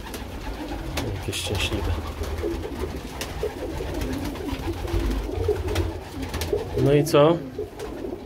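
Pigeons coo softly and continuously nearby inside a loft while a person speaks over them.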